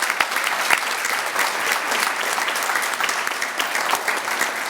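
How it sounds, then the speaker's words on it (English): Audience applause for teachers at a school banquet, dense sustained clapping from a large room, loud and continuous throughout with no talk. "One more round of applause for our teachers."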